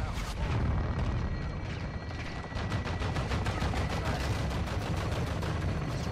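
Belt-fed machine gun fire in Call of Duty: Modern Warfare 2, long sustained rapid bursts with a steady rhythmic rattle, loud and continuous through the whole clip, with booming combat noise beneath.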